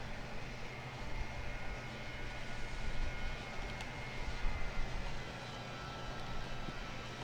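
An Aer Lingus airliner departs in a Roblox flight game, a steady low engine roar that swells slightly and holds at moderate distance, with no talking.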